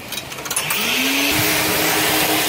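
A car wash vacuum starts up with a few sputtering bursts and then settles into a loud, continuous whirring suction roar with a rising motor whine, close by.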